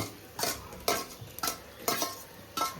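A prawn biryani mixture is stirred in a pot with about five rhythmic scraping strokes against the metal, close up over a soft sizzle, with no voices.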